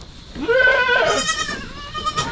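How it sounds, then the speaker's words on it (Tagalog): Several small young goats bleat in a backyard, their wavering, nasal cries rising and overlapping loudly and close by for a couple of seconds, with no talking. "Daming kambing mga kaprobinsya."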